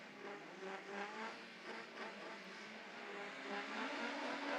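Autograss race cars at an Evesham dirt-track meeting launch together off the start line, a dense, sustained roar of several revving engines building in loudness over a few seconds, no voices on top.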